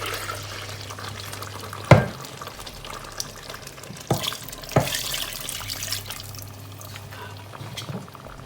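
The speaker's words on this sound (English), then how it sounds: "rinse my blender with water" Water sloshing and splashing in a blender being rinsed while cooking Ghanaian chicken light soup with garden eggs and pepper, a steady near liquid wash broken by a few louder clunks and splashes.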